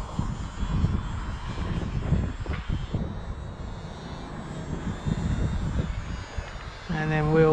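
An EazyRC PA18 ready-to-fly RC model plane buzzes overhead on a windy day, its small motor whine fading and returning beneath gusty wind noise and a person's intermittent talk.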